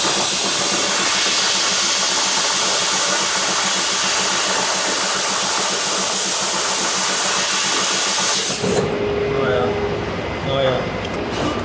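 Champ Turbo Pro dry ice blasting machine cleaning a hat, a loud, steady roaring hiss of blasting that cuts off abruptly near the end, leaving a quieter hum.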